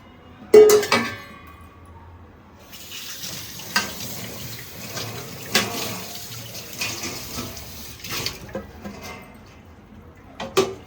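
Water splashing and trickling into a metal cooking pot, with occasional clinks and knocks of the pot, in intermittent bursts.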